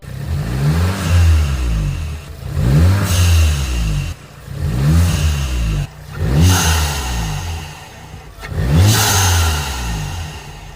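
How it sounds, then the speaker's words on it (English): A VW Mk7 Golf GTI fitted with a Direnza intake revs hard five times in a row. Each loud, close blip rises and then falls back, with pronounced induction roar and short pauses between the pulls. "that is extremely loud. That induction noise."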